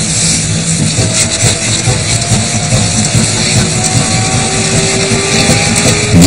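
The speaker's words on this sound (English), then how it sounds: "Roy's steam-driven traction engine powers both a 4 foot 6 inch blade and a sliding bench" Roy's steam-driven traction engine drives a saw bench with a 4 foot 6 inch blade and a sliding bench, giving a loud, steady mechanical drone with a continuous whine running underneath, close and unbroken throughout.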